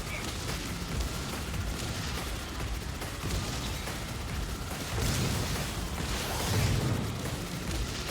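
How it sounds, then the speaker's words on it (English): A dense, rumbling explosion sequence from the video game Subverse, a continuous noisy roar that swells louder partway through and stays heavy to the end. "Ooh, pretty explosion."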